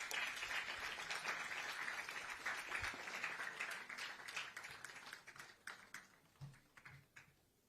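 An audience at the Western Ghats Lit Fest applauds to welcome a speaker onto the stage. The clapping is steady and moderately distant, then thins into scattered claps before dying out.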